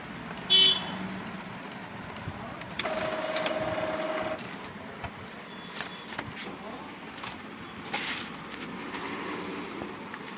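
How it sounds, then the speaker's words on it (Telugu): A photo printer runs a print of keychain photos, a mechanical whir with a louder feed stretch in the middle and faint clicks, quiet and close, with light background sounds around it. "సో ఇప్పుడు మనం ప్రింట్ చేసుకుందాం. ఫ్రెండ్స్, ప్రింట్ అవుతుంది."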